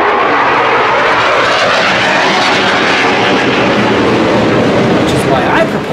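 An F-35 fighter jet passes overhead along a flight path, a loud, sustained broadband roar that fills the whole stretch without letup.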